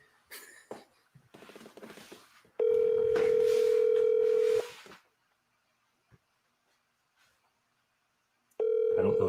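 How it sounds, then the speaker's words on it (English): A telephone call rings through as a steady, loud tone held for about two seconds, followed by a pause and then another ring starting at the end, with brief talk and clicks just before. "Let me see if I can get somebody to answer the phone here"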